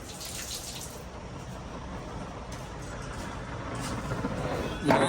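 Running water splashes steadily while Sonalika tractor engine head parts are washed, a continuous near hiss of spray that swells slightly toward the end, with a brief clatter near the close.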